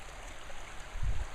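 Water runs steadily along a small hand-dug irrigation ditch, a soft continuous trickle and gurgle close by, slightly leaking at one spot.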